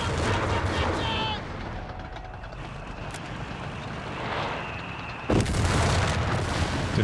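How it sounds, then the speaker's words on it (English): Anti-tank gun shots and explosions from a Company of Heroes 3 battle sound as muffled booms over dense, noisy battle ambience, with a sharp crack near the end followed by louder, fuller noise. "trying to get that AT gun kill."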